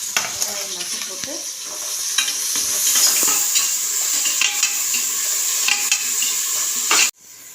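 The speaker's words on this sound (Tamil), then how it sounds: "இப்போ அடுத்தது வெங்காயம் நல்லா வதங்கிருச்சு" Onions sauté and sizzle in a pan for mutton biryani, a steady close frying hiss broken by scraping stirs, stopping abruptly near the end.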